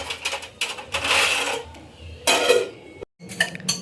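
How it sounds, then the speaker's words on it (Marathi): Gas stove being switched off and a lid set over a pan while cooking masala dosa, heard as close clanks, metallic rattles and clattering handling noises in short bursts. "चला गॅस बंद करते आता. आणि झाकून ठेवते ना."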